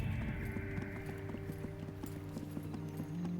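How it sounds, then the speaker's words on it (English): Horse hooves clip-clopping in a steady rhythm from the video game Disciples Liberation, a continuous trotting beat set against a low ambient music bed. "The sound of your horse's hooves disturbs an old soldier from his small farmhouse."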